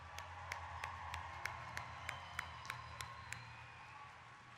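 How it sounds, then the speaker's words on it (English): Scattered, fairly faint clapping at a robotics competition event, about a dozen distinct claps spaced roughly evenly over a steady background din, with no talking. "let's have a huge round of applause for all 39 teams here this weekend"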